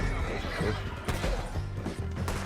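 A horse neighs in the Red Dead Redemption 2 video game, a loud, close whinny with hoof clatter and dense game noise around it.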